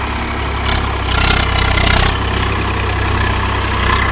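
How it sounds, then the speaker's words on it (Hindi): A Swaraj 855 FE 50HP diesel tractor engine runs at 1400 RPM, a steady, throbbing speed, loud and close, with a constant low rumble and slight rises in intensity. "किसान भाइयों, 1400 RPM पर ट्रैक्टर को चलाया जाएगा"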